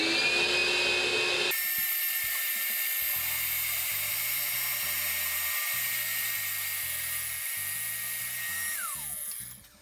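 Powermatic PM701 benchtop mortiser running with a loud, steady high-pitched whine as its chisel plunges into wood, with uneven low chopping thuds from the cut and the motor winding down at the end.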